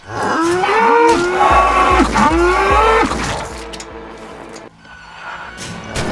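Cows moo loudly and close by, several long bellowing calls in a row, followed by quieter rustling background noise.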